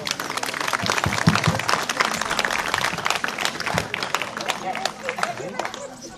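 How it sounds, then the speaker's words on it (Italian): Audience applause for two dialect poets at an Italian book presentation, a burst of clapping mixed with crowd chatter and voices, tapering off near the end. "E farei un applauso cumulativo."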